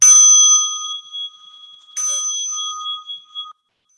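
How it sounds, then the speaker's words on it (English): A mindfulness bell is struck twice during a guided calming session, each clear metallic strike ringing out with a long shimmering decay that fades into silence, heard alone with no talk. "listen to the bell"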